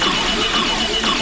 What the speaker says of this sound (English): you might also be able to hear a beeping noise in the background.